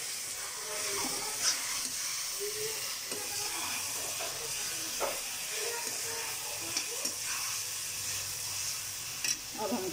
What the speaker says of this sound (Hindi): अब इसको हम 2 मिनट के लिए पकाएंगे